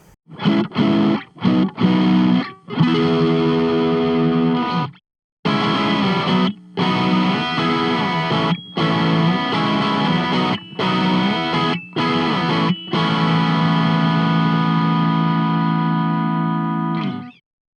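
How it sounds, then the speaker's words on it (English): Guitar strumming bright, chimey acoustic-style chords through an overdrive pedal, with several short pauses early on, then sustained distorted chords held loud and steady until the end. "chimey acoustic chords with a fair amount of drive"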